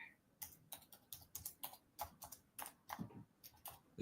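Typing on a computer keyboard: rapid, irregular keystrokes in close succession, crisp and nearby, continuing steadily with no talking.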